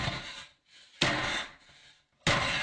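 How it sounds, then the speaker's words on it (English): An axe chopping at a wooden door: heavy, evenly spaced blows, three loud chopping impacts, each with a brief ringing decay before the next hit. "a man with an axe chopping away at a door"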